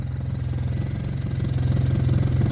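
An Arctic Cat Norseman utility vehicle engine running with an error code and not running properly, a steady low idling drone with a slight pulsing throb, close and continuous without talk.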